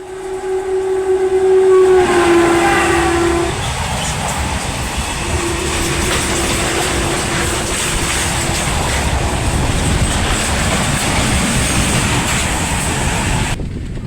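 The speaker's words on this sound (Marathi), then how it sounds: "बघूया आता कुठली गाडी येते क्रॉसिंगला." A passing train at a Konkan Railway crossing near Karanjadi: a long steady horn blast sounds up front, pauses briefly, then comes again more faintly, over a continuous heavy rumble and clatter of wheels on track.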